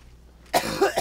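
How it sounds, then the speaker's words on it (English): A single burst of harsh coughing follows a brief near-silence, close and loud, with two or three quick rough hacks in a row. "Oh, man, I am coughing a lot."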